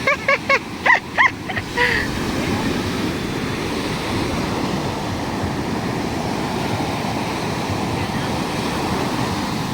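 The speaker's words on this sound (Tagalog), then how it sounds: "Lakas ng alon ngayon." Strong ocean waves crash continuously on a beach in Zambales, loud and close. Short bursts of excited voices open the clip, then the surf roars alone.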